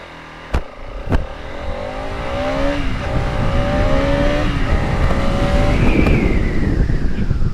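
A Bajaj Pulsar RS200 BS6 motorcycle pulls away hard from close by, its engine note climbing steadily through the gears, with rising wind and road rush building underneath after a couple of sharp knocks at the start.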